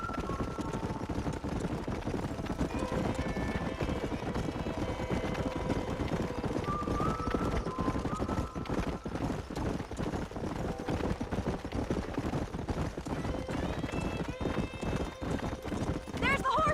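Steady clip-clop of horse hooves with an occasional whinny, set against a busy, continuous Red Dead Redemption game soundscape with people talking over it.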